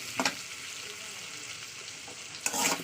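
Fish rubbed with salt and turmeric sautés in a pan with a soft, constant sizzle, broken by two brief scraping stirs near the start and the end.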